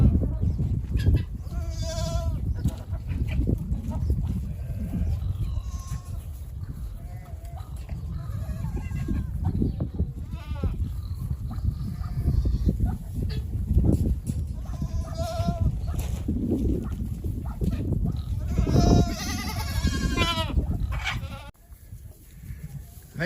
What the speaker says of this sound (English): Goat whining intermission.